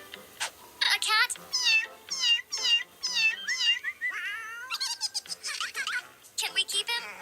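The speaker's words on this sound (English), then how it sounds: "I have a cat named Cheeto, and he came into our lives like any other cat." A cat meows repeatedly in a quick series of rising and falling cries, fairly close and clear, with several short bursts followed by a longer run of meows near the end.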